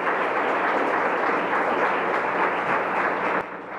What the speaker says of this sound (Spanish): reconocemos su talento con un caluroso aplauso